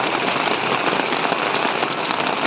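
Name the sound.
rain falling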